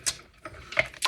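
An embossing machine being wound back with a few quick mechanical clicks and ratchet-like ticks, close and fairly quiet.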